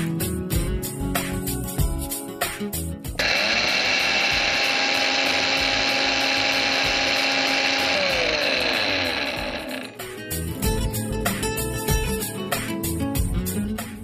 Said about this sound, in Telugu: సో దాన్ని మనం పొడి కొట్టేసుకుందాం